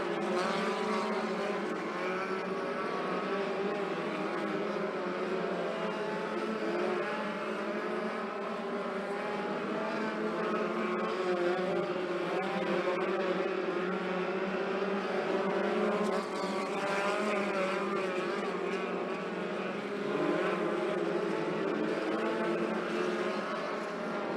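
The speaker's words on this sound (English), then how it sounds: "Most of our midgets running that bottom groove around the racetrack" Midget race cars lap Skagit Speedway's bottom groove together, a dense layered engine drone that holds at a steady, fairly distant level, with pitch swells as cars pass, no talk.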